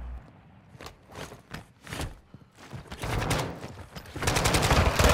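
Video game gunfire comes as scattered single shots and then a denser burst of rapid automatic fire, loud and close, with no talk over it.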